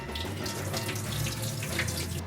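A kitchen tap runs steadily as cool water rinses parboiled basmati rice in a sink, a continuous close splashing stream with no voices.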